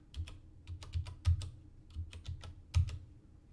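A computer keyboard being typed on, about a dozen distinct close key clicks in an uneven rhythm with short pauses, alone in a quiet room.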